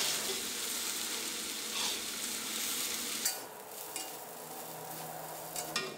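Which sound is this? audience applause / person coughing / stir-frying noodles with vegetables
stir-frying noodles with vegetables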